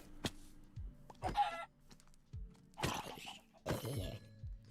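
Minecraft chickens cluck in short scattered bursts, several close-by clucks and squawks separated by quiet gaps, mixed with soft thuds.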